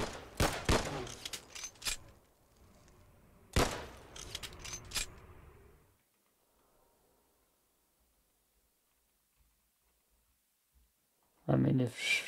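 Gunfire shooting at a lock mechanism in the zombie shooter game Abandoned World: a few sharp, loud shots in quick clusters early on, then quiet, then someone talking at the end.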